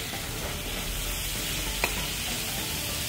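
Mixed vegetables for egg fried rice fry and sizzle in a pan, a loud, continuous crackle and hiss with light stirring, no voices.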